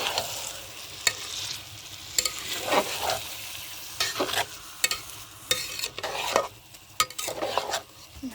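Broken Gobindobhog rice grains being stirred in a sizzling pan for khichuri-style biryani, a steady close frying hiss broken by repeated scraping strokes of the spoon, with no voices.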